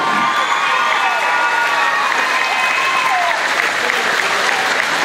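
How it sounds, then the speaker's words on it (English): Loud, sustained audience applause and cheering at a dance competition event, a dense unbroken roar of clapping with shouts and whoops running throughout. "Give yourselves a huge round of applause"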